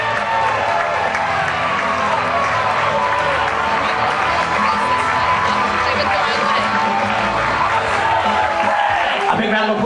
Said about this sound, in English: Please put your hands together for the parents of the girl,